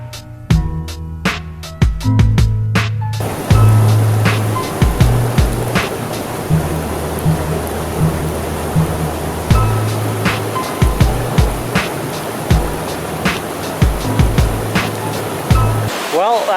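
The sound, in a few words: sulfur hot springs waterfall in the Philippines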